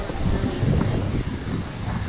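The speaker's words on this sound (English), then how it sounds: "That's some rough water." Rough sea off Costa Maya, Mexico, heard from a cruise ship deck as a steady, loud wash of waves and surf mixed with heavy wind rumble on the microphone throughout.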